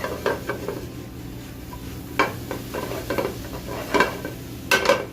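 Whipped eggs cooking in a pan for an Okinawan spam dish, with a faint steady sizzle under intermittent scraping and clinks of a utensil against the pan.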